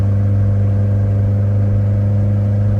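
A steady, loud engine drone from a 1972 Ford Escort Mexico rally car, humming evenly at a constant pitch with a slight mechanical whir.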